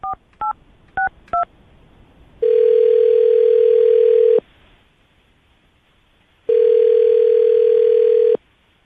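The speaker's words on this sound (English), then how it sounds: "I'm going to dial her phone number right now" Four short touch-tone beeps of a phone number being dialled, followed by two long, loud, steady ringback tones separated by silence on the line, with no talking.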